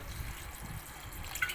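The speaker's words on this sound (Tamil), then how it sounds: "ஐஸ் வாட்டர் ஊற்ற போகிறேன்." Ice water pours into a mixer jar while mint juice is being made, a soft, steady liquid trickle with faint splashes and a brief drip near the end, close and quiet.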